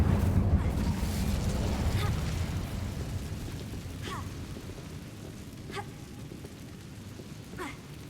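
An Incendio fire spell goes off in Hogwarts Legacy: a loud, roaring burst that slowly fades over several seconds, with a few faint clicks near the end.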